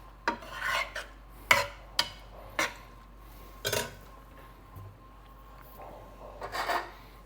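Pasta being stirred in a pot with a utensil while salt is added, giving a few scraping, rasping strokes in an irregular rhythm, fairly close and moderately loud, with no talk.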